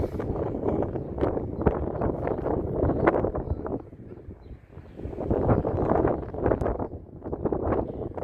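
Gusty wind buffets the microphone outdoors on the seafront at Deal, near the castle, a loud low rumble that swells and eases in waves, dropping briefly midway before surging again.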